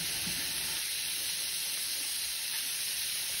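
Meat for shrimp jambalaya browns in a pan, its fat rendering out with a continuous dense sizzle and crackle, loud and close, alone without talk.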